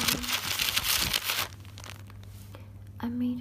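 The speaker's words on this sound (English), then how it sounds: "crinkly notebook" Pages of a crinkly handmade notebook, its paper stiffened by soaking in water and drying with a hair blower, rustle and crinkle loudly up close as they turn, fading to quiet near the end.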